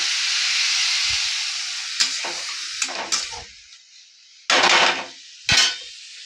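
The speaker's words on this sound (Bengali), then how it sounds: "আমি এবারে চিড়েটা এর মধ্যে দিয়ে দিচ্ছি, দিয়ে একটু নাড়াচাড়া দিয়ে, গ্যাসটা একটু বাড়িয়ে দিলাম" Flattened rice (poha) being stirred in a hot pan on a turned-up gas flame: a steady frying hiss, then scraping and clattering strokes of a spoon against the pan, with two louder bursts of sizzle near the end.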